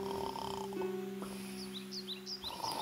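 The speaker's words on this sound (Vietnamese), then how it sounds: "Và ngáy." A wolf in an animated fairy tale snores steadily with a low, rumbling drone, while faint chirping birds are heard in the background and no one speaks.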